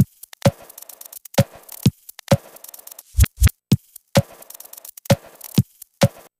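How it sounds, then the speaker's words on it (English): Resampled electronic drum hits, pitched up, reversed and chopped, play in a stuttering pattern of sharp transients with a few reversed swells and short gaps of silence, loud and upfront with no voices. "I resampled all the drums onto a separate track"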